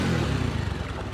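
A motorcycle engine rumbles close by with a low, rough drone and slight revving on a rural track near the Dahi Khola stream in Chhinkhet, Banphikot, West Rukum. The sound is brief and continuous, with no talk.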